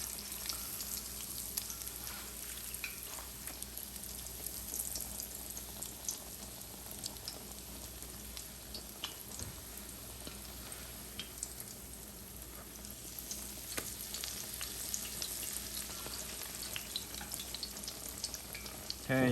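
Shrimp egg foo young, Chinese takeout style, fries in oil in a pan with a steady, soft, continuous sizzle and crackle that lasts the whole stretch, with no talking.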